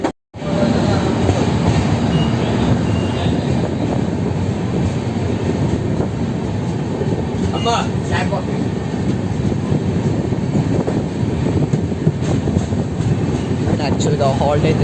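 Secunderabad–Danapur superfast express train running on rails while slowing for a signal, a loud continuous rumble and rattle of wheels and carriages with faint clanks, heard from inside throughout.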